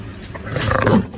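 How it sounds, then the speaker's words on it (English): A lion roars once, a loud, deep, rumbling call swelling over about a second, close and alone with no talk. "L for lion."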